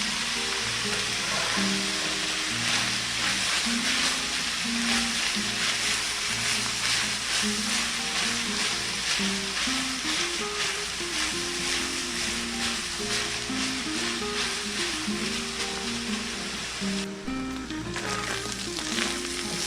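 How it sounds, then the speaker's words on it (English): A steak for Pennsylvania-style cheese steak subs sears in a pan with a steady crackling sizzle, close and moderately loud, while a low background tone shifts in pitch throughout. "we're going to go ahead and put the steak back into the pan so it can continue cooking and getting a beautiful"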